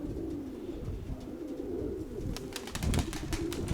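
Pigeons coo in a loft with a low, soft, rolling murmur that continues throughout, and a few faint clicks and rustles come near the end.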